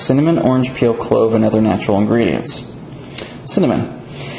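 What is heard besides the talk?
No everyday noise stands out behind the speech.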